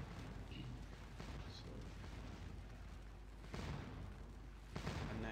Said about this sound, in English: And their cannons are doing the same thing back at you.